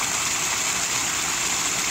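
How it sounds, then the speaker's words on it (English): Small waterfall in a 4000-gallon saltwater pond, pouring down onto two stacked bread boxes full of lava rock that serve as a filter, with a steady, loud, close rushing splash throughout and no talk. "Just the waterfall flowing down on top of them."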